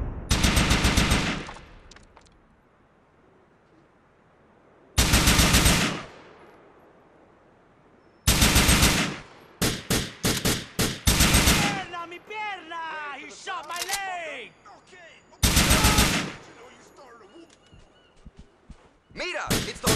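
Gunfire in the video game GTA IV during a snowstorm mission comes as loud bursts of rapid automatic shots separated by quiet gaps, with frantic shouting voices in between.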